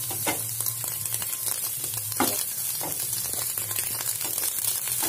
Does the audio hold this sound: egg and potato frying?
yes